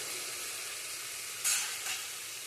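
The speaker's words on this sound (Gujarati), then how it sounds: "હવે આપણે એની અંદર નાખવાના છે ટમેટા ટમેટા નાખી" Tomatoes tossed into a hot frying tempering for Gujarati vegetable khichdo, a continuous soft sizzle with a sudden brighter hiss as they hit the oil and a smaller flare just after.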